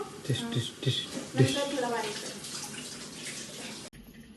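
Water poured into a cooking pan for a semolina cake, a short splashing gush with bubbling under a voice, ending abruptly.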